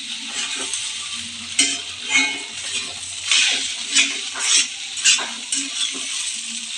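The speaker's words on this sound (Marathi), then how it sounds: "पोहे टाकल्यानंतर 5 ते 7 मिनिटे चांगले फ्राय करा." Poha, flattened rice, frying and being turned in a pan, a dry hissing sizzle with rhythmic scraping and tapping of the spatula against the pan, several distinct strokes, near and fairly loud.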